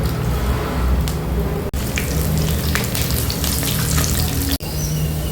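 Chopped garlic cloves fry in hot oil in a pan for chicken pepper fry, giving a loud, dense, continuous sizzle close up, briefly interrupted twice by sharp breaks.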